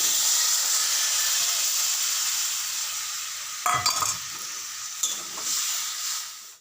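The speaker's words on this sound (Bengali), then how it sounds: "ভাজা হয়ে গেছে এখন" Bathua greens fry with rice flour in a pan, a steady close sizzle that fades slightly, broken by a couple of stirring scrapes and clatters near the end, with no talking.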